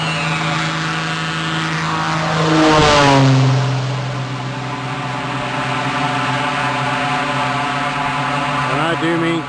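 A Cessna 185 takes off from a small Tennessee airport, its loud propeller engine droning steadily and swelling as it passes close by, then holding a strong, sustained roar as the plane climbs away.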